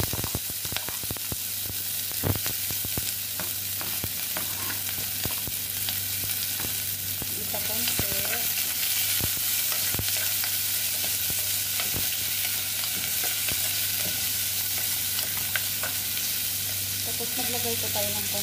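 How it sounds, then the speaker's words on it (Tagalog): Chopped onions sautéing in a little hot oil in a pot, with a steady close sizzle and occasional stirring scrapes throughout. "Ayan, mainit na po yung oil. Maglagay na po tayo ng sibuyas."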